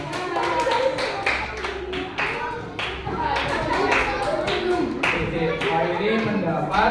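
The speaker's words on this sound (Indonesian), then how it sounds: "Tepuk tangan untuk Elsa." Primary school pupils in a classroom clap together in a quick, rhythmic patter of close handclaps that continues for several seconds, with children's voices and talk mixed in throughout.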